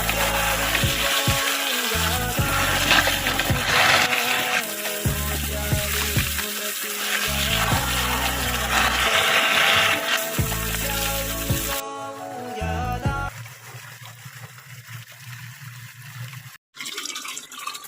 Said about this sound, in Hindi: इसमें तेज आ रहा है पानी।